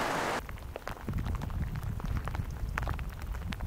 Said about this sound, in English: There's a tiny break in the weather, where it's just like a drizzle.